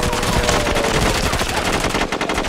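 Rapid automatic gunfire from the SOCOM Combined Assault online shooter, a dense loud burst of shots lasting a couple of seconds with no talking over it.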